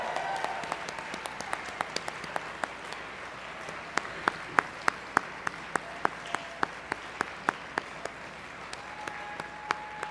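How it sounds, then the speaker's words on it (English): Audience applause at an awards dinner and gala honoring charity cyclists, a steady wash of clapping with distinct sharp individual claps standing out near the microphone, sustained across about ten seconds. "Can we please offer them a round of applause?"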